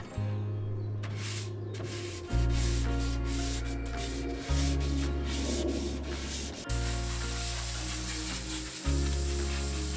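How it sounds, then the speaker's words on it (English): Polyurethane-coated wooden boards are sanded by hand during a camper van build: several long, steady scraping passes with a rasping hiss, each stroke starting with a slight surge and running for about two seconds, close and alone. "So what I'm doing now is sanding it to get it smooth, making sure we don't have any bubbles."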